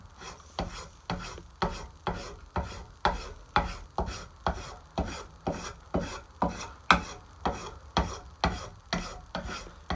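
A spokeshave shaping a wooden handle makes rhythmic rasping strokes, about twenty evenly spaced scrapes in steady succession, close and clear with no talk.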